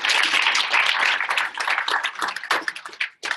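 Audience applause welcoming a guest speaker to the stage at a machine learning conference session, a dense, steady clapping that holds strong before thinning into scattered claps and briefly dropping out near the end.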